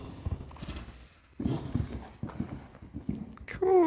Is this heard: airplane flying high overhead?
no